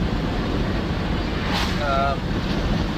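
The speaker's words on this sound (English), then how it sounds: "This is the ocean here in Alaska." Ocean surf on the Alaskan coast with mountains nearby washes steadily under heavy wind buffeting the microphone, giving a constant, rough roar.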